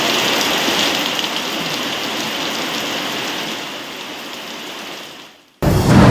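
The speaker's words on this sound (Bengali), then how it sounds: "টানা গরমে স্বস্তির বৃষ্টি" Steady, dense rain hissing down on a surface, fairly loud and continuous, fading briefly before cutting off abruptly into a different noisy sound.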